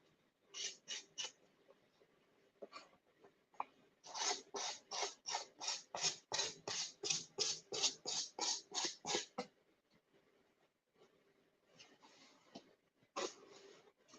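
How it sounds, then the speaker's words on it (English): Sandpaper rubbing off paper edging on an altered book box, a quick series of rhythmic rasping strokes in bursts, close and fairly quiet, with no talk. "when you take your gator or sandpaper, whatever you prefer to use, and you take off all the edging"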